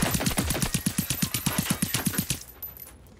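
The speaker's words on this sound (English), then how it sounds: "So I'm actually now shooting" Rapid automatic gunfire from the player's weapon in the video game Generation Zero, a steady burst of about fifteen loud, evenly spaced shots that stops abruptly, leaving a brief fading tail.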